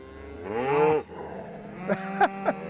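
Cattle in a field, with one long, close moo swelling and falling off, followed by a few short, softer grunting calls.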